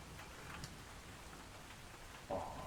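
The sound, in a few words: rain ambience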